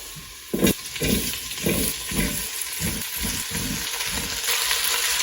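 Diced potatoes and garlic sizzle in an Instant Pot on sauté: a loud, steady frying hiss up close, pulsing in a regular rhythm as they are stirred, after one sharp clatter near the start, with no speech.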